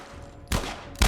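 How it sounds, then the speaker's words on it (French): Gunfire in The Last of Us Part 1, with two short loud bursts of shots separated by a quieter stretch of low background noise. "Encore un gunfight."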